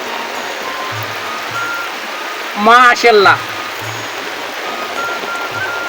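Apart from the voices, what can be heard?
rain falling on a river while catching fish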